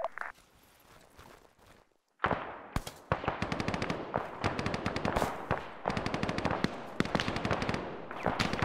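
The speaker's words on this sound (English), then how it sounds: "shots are getting close." Gunfire in the military shooter game ArmA 3, loud rapid bursts of automatic fire that break out after a quiet moment and continue in repeated volleys, with no talking.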